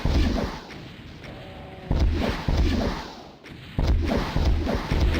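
A rocket launcher fires in Doom II on MAP29, The Living End, loud booming shots repeating at a steady pace, each a heavy thump followed by a rumbling blast close up.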